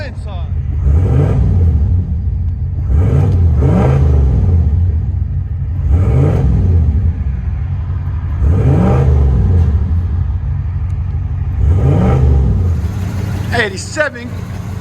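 Inside a Chevy Caprice Classic with a V8 and straight-pipe dual exhaust, a deep rumble drones steadily while the engine is blipped in repeated revs roughly every three seconds, with someone talking throughout.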